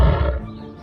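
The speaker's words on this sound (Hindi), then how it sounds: "उसने देखा कि कुएं में शेर भी उसे देखकर दहाड़ रहा है।" A cartoon lion's deep roar bursts out loud and close, a single rough growling blast that tails off quickly within a second.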